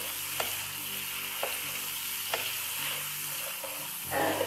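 Tomatoes frying in a pan while cooking beef tikka pulao, a steady close sizzle with a few soft stirring clinks and a brief louder burst near the end.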